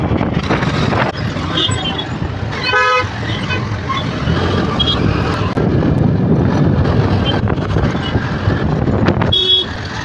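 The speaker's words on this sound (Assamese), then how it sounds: "বুক কৰাৰ পিছত এয়া ৰেপিড'ত গৈ আছে।" Traffic heard from a Rapido bike taxi on a city road, with a steady roar of engines all around, repeated horn toots near and far, and a voice talking over the noise.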